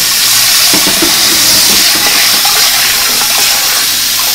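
A washing machine runs on a spin-only cycle with no water to squeeze pickled eggplant, producing a loud, steady whooshing roar with a rough, rattling texture throughout.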